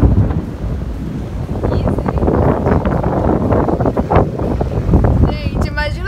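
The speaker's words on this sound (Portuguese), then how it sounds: "Tá ventando muito." Strong gusting wind ahead of rain buffets the microphone in a loud, continuous rumbling roar, with a voice briefly heard near the end.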